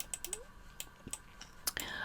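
A computer mouse clicks several times in quick irregular bursts, with small sharp taps close by over a quiet room background, and a faint murmur of movement between clicks.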